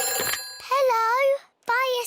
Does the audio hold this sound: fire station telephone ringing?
yes